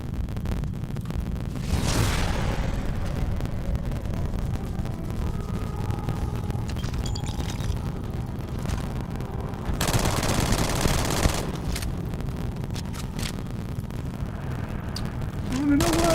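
Gunfire and explosions from the sci-fi shooter Starfield, a dense continuous roar of rapid shots and blasts, with louder bursts near the start and middle, all fairly close and sustained.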